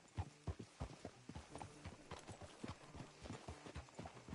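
Horse hooves clip-clop steadily and rhythmically on the ground in the video game Red Dead Redemption, a close, continuous trotting pattern with no voices over it.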